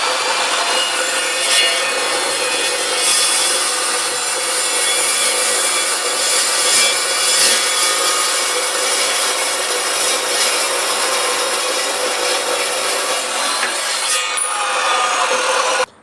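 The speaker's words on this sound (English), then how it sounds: "will cut another piece of this square tubing" Evolution EVOSAW380 saw cutting through steel square tubing held at an angle, a loud continuous harsh grinding whine that stays steady for the whole cut and stops abruptly at the end.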